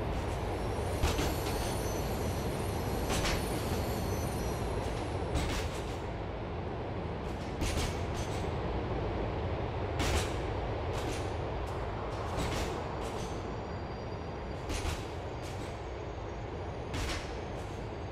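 Liberty City subway train in the GTA IV video game, a steady rumbling ride with rhythmic clacks and sharp hissing bursts recurring every few seconds, heard from on board with no voices.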